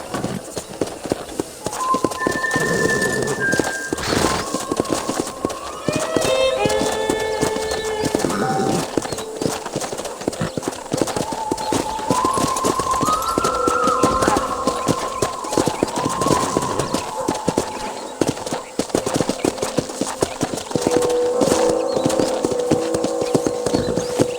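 In the video game Red Dead Redemption, horse hooves clip-clop in a steady rhythm throughout, with a horse whinnying and snorting over the top and tonal game sounds chiming in between.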